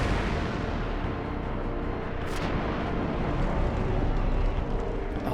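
A Hellfire fire spell explodes in Final Fantasy X as a dense, roaring blast of rumbling noise that holds steady and loud throughout.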